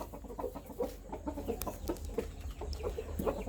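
Young Burmese chickens clucking in a holding pen on a farm, a string of short, soft clucks at an irregular pace with low rumbling background, fairly faint and without talk.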